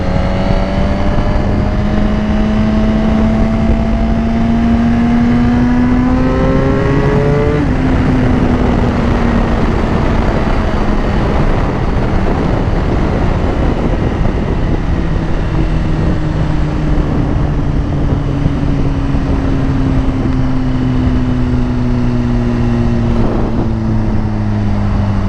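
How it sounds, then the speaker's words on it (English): A motorcycle exhaust revs loudly and close, its pitch rising and falling in several sweeps over a constant dense engine roar, with no talking. "allow exhaust also helps other people, help attract their attentions. So that way they can hear you before they see you."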